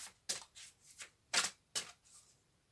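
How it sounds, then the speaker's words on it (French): A deck of playing cards being shuffled by hand, several quick riffling bursts, close and fairly quiet with no talk. "je vais te tirer une carte"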